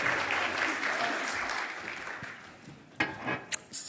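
A church congregation claps together to welcome a pastor, a steady wash of applause that thins out after a few seconds into scattered claps and light shuffling.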